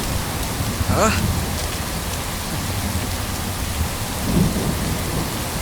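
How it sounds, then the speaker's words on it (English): Heavy rain pours steadily throughout, with a low rumble of thunder rolling underneath; a brief faint voice-like sound appears near the end. "It's raining heavily."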